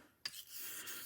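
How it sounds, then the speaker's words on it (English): A blade's bevel edge rasped against a sharpening abrasive, one faint, steady grinding stroke heard close and alone after a sharp start. "what I'm doing is simply grinding down each bevel edge, or each bevel of the edge"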